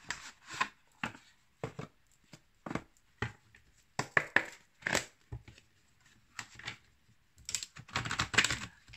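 Guardian angel cards are shuffled and drawn by hand in short, crisp bursts of papery riffling and snapping, separated by brief quiet gaps, close and fairly soft, with no talking.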